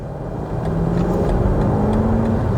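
A BMW X5M Competition's V8 idles and revs gently with a steady low rumble and a rising tone, its muted exhaust note held at moderate level throughout with no talking.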